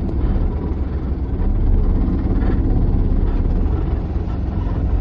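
A motorcycle engine on a village road near Pimpri Pendhar gives a loud, continuous close drone and rumble that stays steady throughout, with no clear talk.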